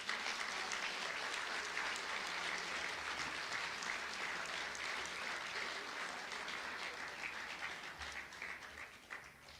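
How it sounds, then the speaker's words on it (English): Sustained applause from a room of guests at the Moravian University Societies Dinner, a steady dense wash of many hands clapping that holds for several seconds and thins slightly toward the end, with no voices over it. "Please join me in a round of applause."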